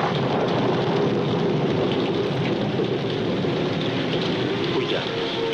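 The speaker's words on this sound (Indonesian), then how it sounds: "Hujan memang sudah mulai berisik di sini" Heavy rain pours steadily with low rumbling thunder in a scene from a P. Ramlee film, a dense continuous wash of rain noise that stays loud throughout.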